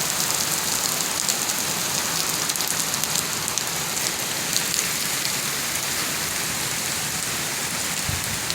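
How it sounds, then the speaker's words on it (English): Steady rain falls outside, a dense even hiss of drops with occasional sharper patters on a nearby surface, continuous and fairly close, with no talking. "Rain, rain, rain."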